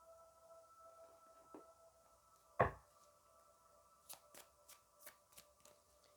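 Tarot cards shuffled and handled for a reading: a single loud riffle burst midway, then several short soft flicks and taps, quiet and close, with a faint steady hum underneath and no talking.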